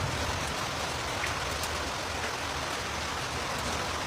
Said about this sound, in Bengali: আসো ভিজি, আসো ভিজি একসাথে, বৃষ্টি বাহিরে